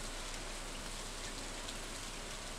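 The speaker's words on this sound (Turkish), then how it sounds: "Sessiz bir gölün üzerinde fısıldayan yağmur perdesini izlemek." Steady rain falling on a quiet lake, a dense, even hiss of drops that holds at the same level throughout, with no voices or other sounds.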